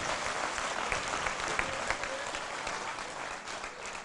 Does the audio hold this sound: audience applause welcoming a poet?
yes